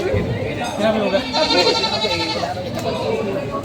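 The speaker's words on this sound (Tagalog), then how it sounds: "Yung laking kambing." A goat bleats in a drawn-out, wavering cry over steady background chatter and farmyard noise at a goat market.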